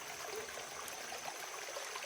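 A stream with a small waterfall runs beside an off-grid log cabin, producing a steady, soft, hissing rush of water with no voices and no change.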